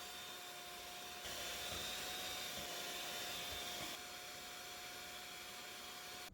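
A KitchenAid stand mixer creams butter and cream cheese together, giving a steady whirring motor hum with a faint tonal whine that swells briefly louder mid-run, with no talking.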